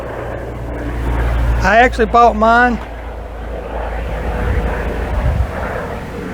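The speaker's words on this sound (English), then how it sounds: "Hospital helicopter flying over." A hospital helicopter flying over makes a steady low rumble that lasts the whole clip, with someone speaking briefly over it.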